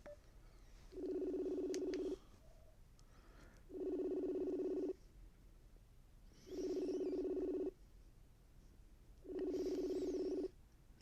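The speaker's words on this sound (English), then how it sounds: "Let's see if I can get them on the phone." A phone line rings out while a call is placed to a partner, giving four evenly spaced ringback tones about a second long with gaps between them, faint and steady, and no one speaking.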